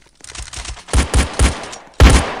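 Video game gunfire comes in a quick burst of loud, close shots: a few rapid light pops, then three heavier blasts in a row and one final loud shot.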